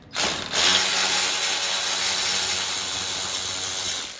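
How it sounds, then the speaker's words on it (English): Electric ratchet spinning out brake caliper bolts during a brake pad and rotor job: a steady, loud, continuous mechanical whir with a rattling ratchet texture, starting abruptly and running without a break, close up and alone. "I like to use this electric ratchet for this reason right here."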